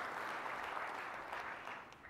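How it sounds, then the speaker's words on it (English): Audience clapping at an industry conference session, a soft, continuous wash of applause that tapers slightly toward the end. "So please give Pam a round of applause."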